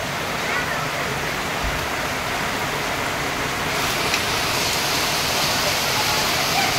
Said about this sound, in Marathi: एकदम भयानक पाऊस पडतोय बा.